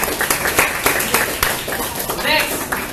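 Audience applause after a speaker's introduction at an evening networking event, a steady wash of clapping filling the room for a few seconds with scattered louder claps.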